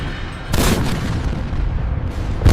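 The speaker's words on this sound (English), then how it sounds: "Target locked. Firing rockets." Rockets fired from aircraft slam into a target in a WWII toy-soldier battle against German 88mm anti-tank guns, a sustained booming roar of explosions that swells near the start and bursts again at the end, with no voices.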